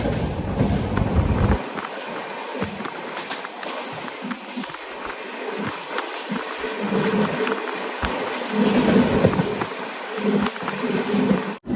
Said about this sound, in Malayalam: പാലക്കാട് ജംഗ്ഷൻ റെയിൽവേ സ്റ്റേഷനിലേക്ക് ഇതാ നമ്മുടെ ട്രെയിൻ എത്തിക്കൊണ്ടിരിക്കുകയാണ്